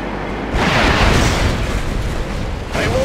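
Nuclear missile explosion in the video game Red Alert 2: a loud, broad roaring blast that swells suddenly and rumbles on for several seconds, with a second surge near the end.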